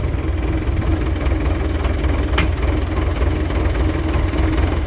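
An MTZ-80 tractor engine idles steadily with a continuous low rumbling chug, loud and close, while a sprayer is hitched for feeding soybeans; no talking.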